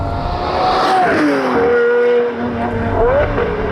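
A Lamborghini Murcielago LP670-4 SV with its naturally aspirated V12 engine drives hard. The loud engine note rises and falls through gear changes, and a rising whine returns near the end.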